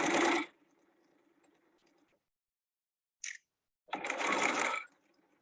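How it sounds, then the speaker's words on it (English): A sewing machine stitches a seam on a raglan coat in two loud bursts, a short run at the start and a longer one near the end, separated by a quiet pause and a faint click. "as you're sewing, you make sure that the foot rides up against the rat tail"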